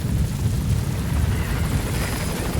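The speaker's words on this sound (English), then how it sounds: "Support helicopter has arrived." Support helicopter arriving in the video game Metal Gear Solid V, a steady close rotor chop and engine roar running without break under faint in-game ambience.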